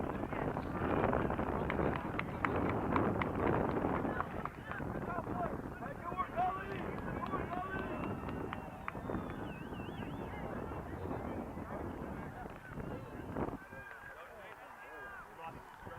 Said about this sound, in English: A lot of wind